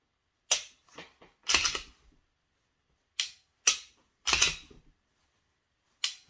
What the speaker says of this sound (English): It's got a little bit of travel before that click.